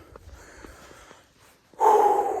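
Heavy, labored breathing from someone short of breath after exertion, a few soft snorting breaths at first, then a loud, sustained rasping exhale up close.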